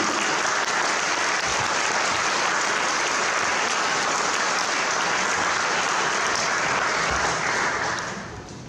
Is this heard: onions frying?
no